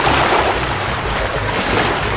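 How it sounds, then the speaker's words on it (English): A cartoon water wave rushes loudly and steadily, sweeping a shark away in an animated rescue scene, a continuous surf-like roar with no voices. "Zuma controlled the water to wash the shark away"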